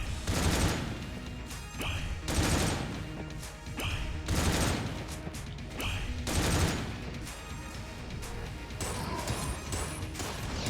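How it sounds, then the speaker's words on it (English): A boss darkness attack in Enter the Gungeon: loud repeated crashing impacts about every two seconds, each with a brief whooshing swell, over a dense background of game effects. "here's the darkness attack"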